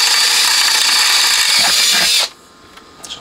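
A power drill close by opens a hole to 4mm while an HH Electronic S500-D power amp is being modified, with a loud whirring burst of about two seconds that stops abruptly, followed by faint clicks.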